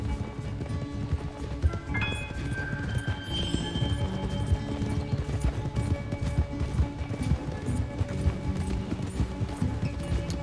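Horse hooves galloping along a road in Red Dead Redemption 2, a fast, continuous drumming of clip-clop beats under game music and ambient effects, moderately loud with no clear talk.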